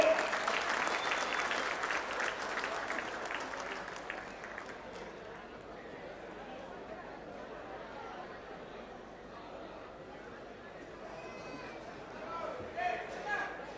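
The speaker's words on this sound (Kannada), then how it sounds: "ನಮ್ಮ ಸರ್ಕಾರದ ಈ ಘನ ಕಾರ್ಯಕ್ಕೆ ಒಂದು ಜೋರಾದ ಚಪ್ಪಾಳೆ" Audience applause at a Karnataka government event: loud clapping from a crowd at the start, fading after a few seconds into murmuring chatter and room noise, with a few scattered claps near the end.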